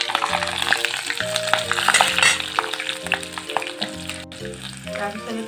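Whole garlic cloves fry in hot oil for an Assamese mutton curry, a loud, close, continuous sizzle with stirring scrapes, set over a steady melodic tonal background.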